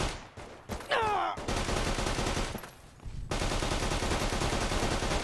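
Bursts of rapid .45 SMG automatic fire in Fallout New Vegas, loud and close, with brief pauses between strings of shots.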